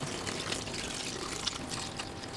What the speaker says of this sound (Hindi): इसके अंदर 1 लीटर जितना पानी डाल देंगे